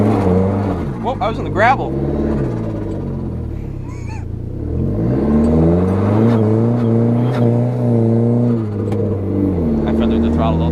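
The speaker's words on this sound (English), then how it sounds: "it's like that same kind of loud 4-cylinder turbo" A loud turbocharged 4-cylinder Chrysler PT Cruiser GT engine with a converted intake manifold revs up and holds a steady drone close by, rising and falling in pitch while people talk and exclaim over it throughout.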